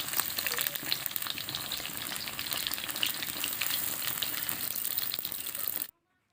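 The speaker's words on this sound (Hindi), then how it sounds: "तेल काफ़ी ज़्यादा गरम थे तो इसलिए हमारा कटहल बहुत अच्छे से तल गए हैं नीचे से" Gram-flour-coated jackfruit pieces fry in very hot oil, giving a loud, steady, dense sizzle with continuous crackling that runs unbroken for about six seconds, then cuts off abruptly.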